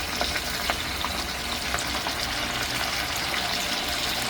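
Steady, close sizzling of snakeskin gourami fish frying in hot oil, a continuous crackling hiss with no talking.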